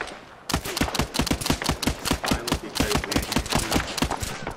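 Incoming gunfire in Arma on the Tanoa map, a rapid sustained burst of sharp cracking shots in fast irregular succession, loud and close, starting abruptly after a brief quiet moment.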